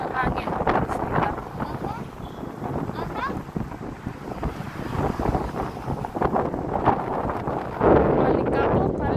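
Strong, dusty wind roars and batters the microphone in continuous loud gusts, with a person speaking at moments beneath the rushing noise.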